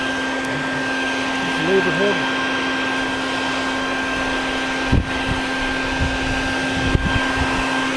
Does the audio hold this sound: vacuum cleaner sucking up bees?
yes